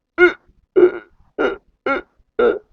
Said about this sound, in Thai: ลองสะอึกดู